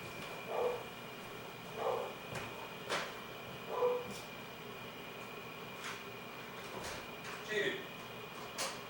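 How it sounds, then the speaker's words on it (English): A dog barks in short, spaced yelps and woofs indoors at moderate distance, with a faint steady air-conditioning hum underneath. "Oh, the dog's barking."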